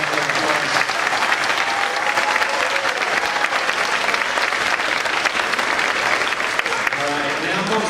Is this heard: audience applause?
yes